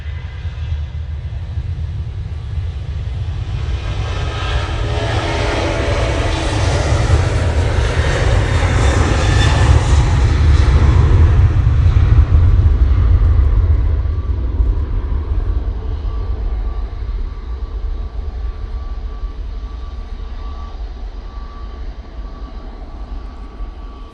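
An Air Baltic airliner departs Manchester Airport for Riga, its jet roar swelling to a loud peak and then fading slowly into the distance on a windy day, with no talk.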